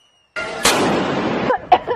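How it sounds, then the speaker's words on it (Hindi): A Diwali firecracker goes off close by, a loud sudden blast followed by a rough, crackling roar that runs for over a second, then a few sharp pops. "अरे मैडम पटाखा"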